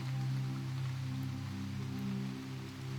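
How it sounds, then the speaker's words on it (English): Gentle rain drums steadily on a surface overhead, a soft continuous patter with a low steady hum beneath it and no voices. "as raindrops drummed gently overhead"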